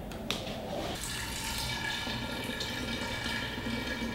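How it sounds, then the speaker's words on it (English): Beer and yeast slurry pour from a container while homebrew yeast is washed, a soft, continuous liquid trickle and splash at close range, with no talking. "So now I'm going to try to pour off only the yeast"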